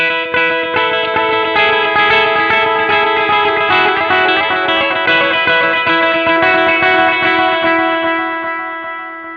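Guitar through a Boss Katana V3 amp with the echo effect at full repeat volume, a dense wash of sustained chords and repeats as loud as the playing, steady and close before tapering off.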